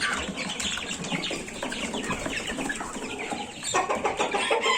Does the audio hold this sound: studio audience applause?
no